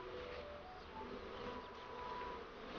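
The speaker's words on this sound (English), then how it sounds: "Britain's native honeybee." British native black honeybees buzz in a steady, close drone, several insects humming together with faint tonal whines rising and falling.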